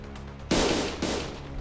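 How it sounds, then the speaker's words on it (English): Two sharp, loud blasts go off in quick succession in the video game Limbus Company, each a sudden broadband crack that decays briefly, set against a quiet, low game background. "A loud explosion left Don Quixote dismembered where she stood."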